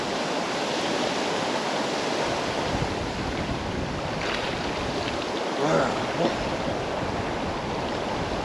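An icy mountain river in Uzbekistan, so swollen it spreads like a lake, rushes in a steady broadband wash, with a few faint splashes and brief murmurs of a voice partly masked by the water.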